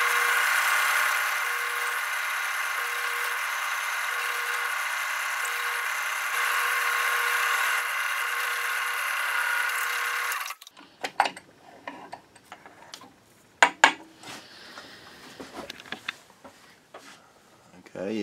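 A lathe drilling into a closed end pen blank runs as a steady, loud mechanical whine for about ten seconds, then stops. Quieter scattered clicks and taps of the workpiece being handled follow.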